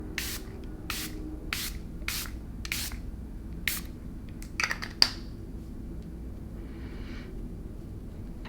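Setting spray is misted onto a face in about seven short, crisp pump bursts, close and distinct, followed by faint rubbing and handling sounds, with no talking.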